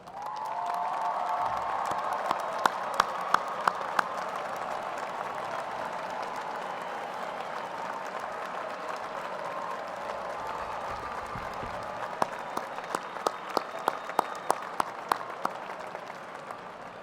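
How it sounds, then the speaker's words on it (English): Large audience at a university business school commencement applauds graduates' families, a long, even roar of clapping in a big hall with scattered sharp close claps and faint cheers. "Will the families, friends, and loved ones of our graduates please stand so we can applaud you?"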